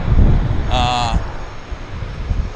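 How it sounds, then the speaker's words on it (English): Aircraft engine drone from airplanes moving at Vancouver Harbour airport, a steady hum with a brief rising propeller tone, under wind noise and nearby rumble. "We've got 1, 2, 3, 4 airplanes."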